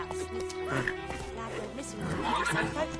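A horse in The Witcher 3 whinnies loudly up close while its hooves clop along, with a voice speaking over it.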